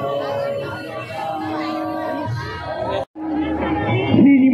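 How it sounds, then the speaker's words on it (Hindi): Dense crowd chatter at a Ganesh pandal with an alien-themed display in Bhilai Sector 1, many overlapping voices forming a continuous close babble, briefly cut out once before resuming. "तो फ्रेंड देख सकते हो काफ़ी भीड़ है"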